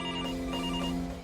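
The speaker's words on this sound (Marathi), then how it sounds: "फोन वाजतोय" A telephone rings with a steady, bright electronic trill that sounds continuously and close, with no talking over it.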